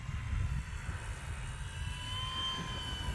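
An E-flite T-28 1.2m RC model airplane flying at high power on a wet day, with a steady electric motor whine heard continuously against outdoor wind rumble.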